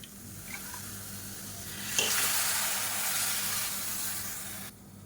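About a quarter cup of water hits frying masala in a pan, giving a sudden loud sizzling hiss over the faint background crackle of frying that continues steadily before cutting off sharply, with no voices.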